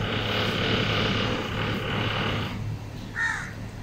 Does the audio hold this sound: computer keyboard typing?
no